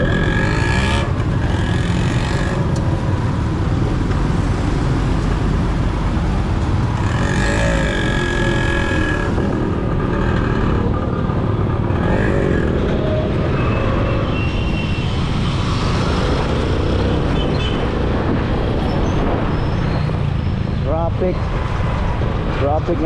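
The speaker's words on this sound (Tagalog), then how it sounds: "Bakit na traffic na yun?" Busy road traffic with cars and motorcycles rumbling steadily in a jam, loud and continuous, with wind buffeting the microphone and people talking over it.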